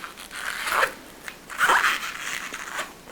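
A latex party balloon squeaks and creaks as it is twisted in the middle while being shaped into an owl, with two sharp rubbery squeals a second apart standing out clearly.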